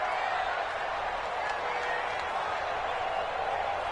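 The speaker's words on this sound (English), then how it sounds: "The crowd getting into it as we come up on a big third down." A stadium crowd in a football video game roars steadily ahead of a big third down, a dense continuous wash of cheering with a broadcast voice murmuring underneath.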